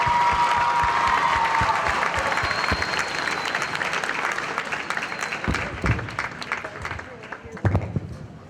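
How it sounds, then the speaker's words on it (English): Audience applause for veterans at an elementary school program, sustained clapping from a large gym crowd that gradually thins and tapers off over several seconds. "Let's give them a big round of applause."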